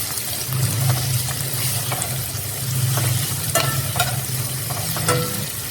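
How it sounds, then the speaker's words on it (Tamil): Onions are sautéed in a pan for paneer butter masala, with a continuous close sizzle and repeated scraping stirs of a spoon, and no talk. "கொஞ்சம் ஒரு மீடியமாக வேகிற அளவுக்கு நீங்கள் வெங்காயத்தை வதக்கினா போதும்"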